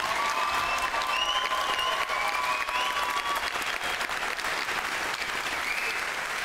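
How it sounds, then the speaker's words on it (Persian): Steady, dense applause from a studio audience at a televised pantomime game show, continuing evenly throughout with faint whistles and cheers rising over the clapping. "ممنونم تشویقشون"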